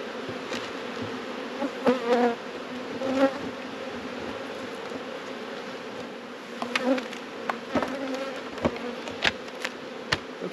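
Honeybees at a farm beehive hum in a steady, moderate drone close by, with sharper buzzes as individual bees fly past and a few soft knocks.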